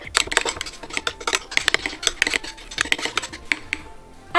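A spoon scrapes and clinks in a bowl while a thick slime mixture of dish soap and salt is stirred, giving a close, steady run of irregular clattering strokes with no talking.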